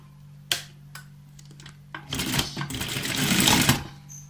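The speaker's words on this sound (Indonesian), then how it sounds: "nah seperti ini kita jahit jahitnya itu tengah-tengah setengah senti" Electric sewing machine stitching the back neckline lining of a gamis dress: a few sharp single stitch clicks, then a loud continuous rattling run of rapid stitching that stops abruptly.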